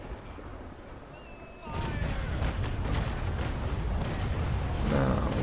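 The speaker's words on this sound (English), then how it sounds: "And firing the top gun deck as well." Ship's gun deck cannons firing in the naval battle game Naval Action, a quiet lull giving way to a loud, rolling barrage of booms that continues and swells toward the end.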